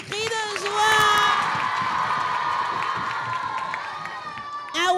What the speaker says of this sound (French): on se tient debout et on applaudit en poussant des cris de joie